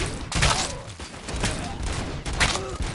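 Bursts of gunfire striking an armored enemy in a PS5 shooter, loud clustered shots with impact noise and game sounds filling the gaps between them.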